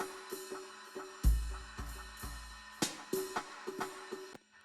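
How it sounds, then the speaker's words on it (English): Echo from a plug-in pedal preset soloed on a simple part: several plucked notes, each followed by repeats that trail away, with a low boom partway through and the echo still ringing near the end. "Hear the echo still going."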